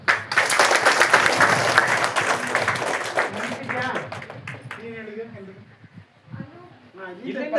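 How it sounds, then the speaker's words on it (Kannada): Applause from a seminar audience, dense clapping loud at first and thinning out over several seconds as voices begin to talk over the fading claps. "ಚಪ್ಪಾಳೆ."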